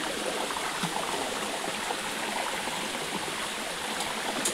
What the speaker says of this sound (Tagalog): Ang tunog ng tubig.